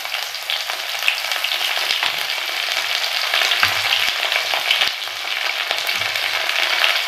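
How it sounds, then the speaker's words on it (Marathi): Curry leaves drop into hot oil for a cabbage and chana dal stir-fry, giving a steady close sizzle and crackle with a few soft scrapes of stirring and no voices. "त्यानंतर घालूया कढीपत्ता."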